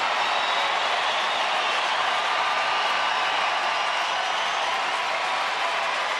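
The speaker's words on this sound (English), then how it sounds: "Crowd getting behind Garza and the Rangers." Baseball stadium crowd at a Twins–Rangers game in Texas, cheering steadily for pitcher Garza and the Rangers with a 2-2 count; a broad, continuous roar that holds level throughout.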